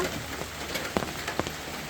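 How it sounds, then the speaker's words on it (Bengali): Steady rain falling on a small home garden with potted plants, a dense continuous patter with occasional sharper drips landing nearby. "কালকে রাত থেকে বৃষ্টি হইতেছে"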